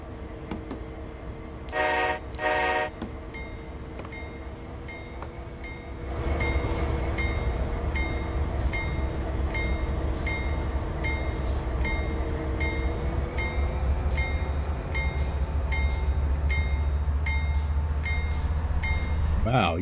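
Locomotive in the Train Sim World game powering up through throttle notches, a steady low engine drone swelling after an early horn-like toot and holding loud and continuous, with a brief voice over it.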